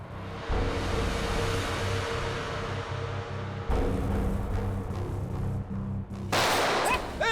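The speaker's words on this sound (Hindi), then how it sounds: "विक्रांत, कवर फायर दो जल्दी।" A shootout in a TV crime drama brings bursts of gunfire over a dense, loud action soundtrack, with shots repeating in quick volleys and a sharp, bright crack near the end.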